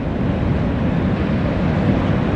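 Heavy ocean surf breaking near an estuary mouth north of Ingwe, a continuous loud roar and wash of water with wind rumble, filling the scene steadily with no voices.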